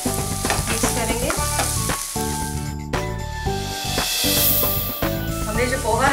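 Chopped onion and other ingredients for kaanda poha hit a hot pan and sizzle loudly while being stirred, with steady crackling frying and scraping throughout and music playing underneath.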